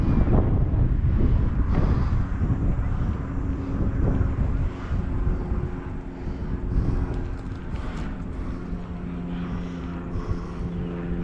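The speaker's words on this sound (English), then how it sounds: "Airplane." An airplane passes overhead in Rome, New York, heard as a loud, continuous broad roar that swells and eases over about eleven seconds, with wind buffeting the microphone and no speech.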